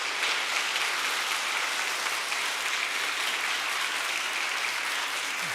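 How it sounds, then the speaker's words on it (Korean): A Korean church congregation applauds during a Sunday worship service, thick continuous clapping from many hands that holds at an even, loud level throughout with no voices. "우리 한번 축복의 박수 주시기 바랍니다"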